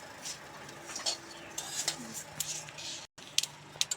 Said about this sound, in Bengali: সিমাইটা একটু ভেজে নেব হালকা একটু লাল লাল করে ভেজে নেব নাড়াচাড়া করে